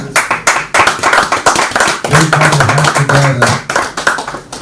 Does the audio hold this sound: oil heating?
no